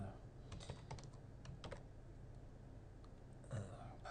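Computer keyboard keys tapped while entering a title on a presentation slide: short irregular clusters of light clicks, close and fairly quiet, over a faint room hum.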